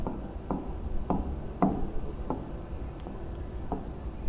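Pen strokes on paper during a class 10 maths lesson, with a series of short scratchy writing marks at a steady, irregular pace, close and fairly quiet, with no talking.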